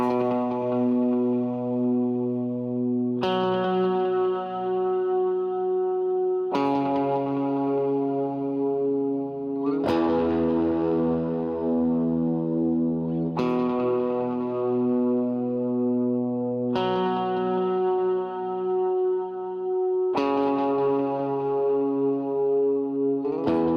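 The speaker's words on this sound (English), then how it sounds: "I will go ahead and play that line for you and then show you what effects I'm using." Effects-laden electric guitar line for a worship song, played alone with chorus, reverb and echo; seven evenly spaced sustained chords ring out, each struck loudly and left to bloom and decay before the next.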